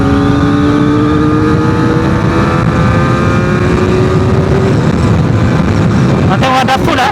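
Modenas ZX-4R SE motorcycle engine held at full throttle, a loud steady drone with rising harmonics as speed builds, buffeted by wind noise throughout.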